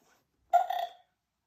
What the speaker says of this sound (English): Burps Peppa.